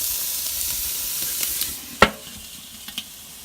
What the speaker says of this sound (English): the pork chops are on there